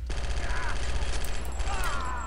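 Rapid, continuous gunfire in a shooter video game, with bursts overlapping into a dense, loud clatter over a heavy low rumble, and thin whining tones over the top.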